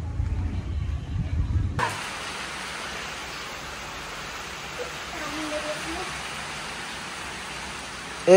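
Rain falling outdoors as a continuous, even hiss that sets in after a short low rumble at the start and holds steady to the end.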